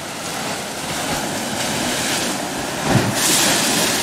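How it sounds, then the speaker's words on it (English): Sea water rushes up a rocky gut on the coast at Cape Reinga, a constant roaring wash with a surge near the end, mixed with wind buffeting the microphone. "The water rushing up a gut."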